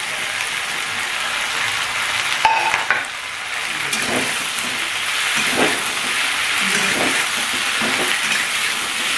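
Potato, onion stalks and eggplant sizzle steadily in a pan while being stirred, with scraping and clinking of the utensil against the pan throughout and no talking.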